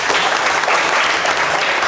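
A studio audience at an Azerbaijani comedy talk show claps in a dense, continuous burst of applause, loud and close, with no voices rising above it.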